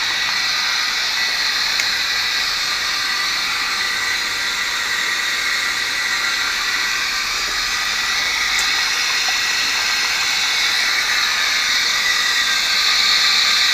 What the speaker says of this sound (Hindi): आउटलेट से पानी निकल के टैंक में जा रहा है।